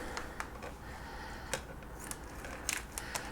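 Scissors cut open a package of sockeye salmon with a handful of short, sharp snips and plastic crinkles, close and quiet.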